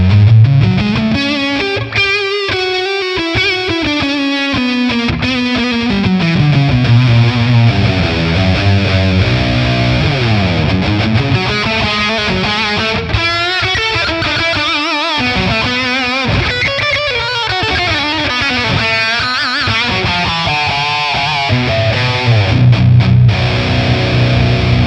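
Electric guitar leads played through a Tonex high-gain amp capture from the Amalgam Audio Amp Kit V, heavily distorted with reverb, running continuously with sustained bends and fast melodic runs at steady loud level, no talking.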